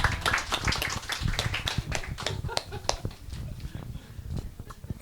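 Audience clapping at an indoor book talk, a dense spread of hand claps filling the whole stretch at moderate level with some cheering mixed in.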